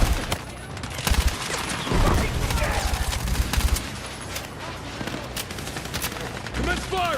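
Gunfire in the video game Battlefield, loud sustained bursts of automatic fire with overlapping shots and booms, heavy and continuous throughout, with voices shouting over it.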